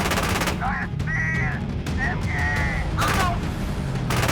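Bursts of machine gun fire in the tank game Gunner HEAT PC during a Bundeswehr night counterattack with Marder 1 vehicles, over a constant engine rumble, with harsh, whistling broadband shots recurring in clusters and a voice talking at times.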